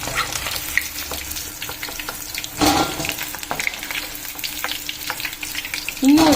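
Pieces of chicken manchurian fry in hot oil with a steady, close sizzle and crackle that runs the whole time, with a brief louder stir or clatter partway through and another near the end.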